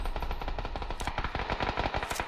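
Rapid automatic gunfire in a first-person shooter video game, a dense string of close, loud shots in quick bursts filling the whole moment with no talking.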